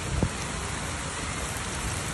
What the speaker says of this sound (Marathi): जास्त पाऊस आहे यार